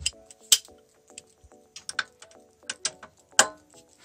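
Metallic ratchet clicks and small tool clatter from a wrench turning an engine mount bolt a quarter turn during a new engine install on a Volkswagen Golf/Jetta MK4, with scattered close taps and one or two sharper clanks.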